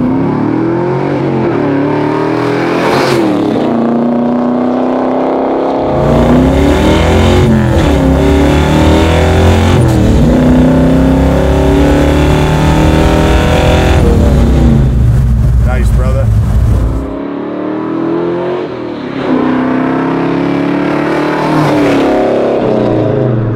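A big-block 1970 Chevelle with a 5-speed manual revs and accelerates loudly up close, its deep V8 rumble rising and falling through gear changes, with a voice talking over parts of it.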